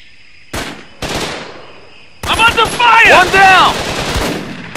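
Gunfire from the Xbox 360 game Raven Squad: two short bursts ring out in quick succession, then a louder, denser stretch of shooting mixed with game voices and effects.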